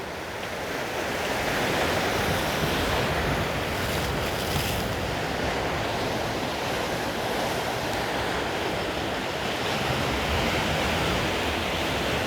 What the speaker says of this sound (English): Just love the waves, you know.